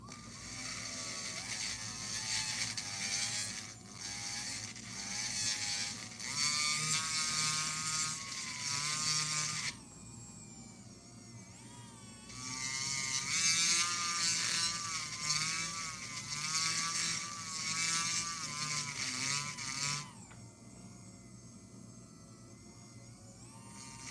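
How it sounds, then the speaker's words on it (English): A rotary burr grinds down the metal of a watch case, making a high, wavering motorized whine in long bursts that briefly ease off around a third and two thirds of the way through. "I'm also using the burr to take down some of the metal"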